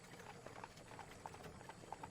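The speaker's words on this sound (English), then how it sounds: "as the sounds of the horse and buggy, or like the cart, fade away first" Hooves of a horse pulling a buggy clip-clop in a soft, steady rhythm. The cart is distant and faint as it moves away.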